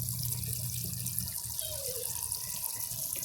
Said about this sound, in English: See the water coming in right here.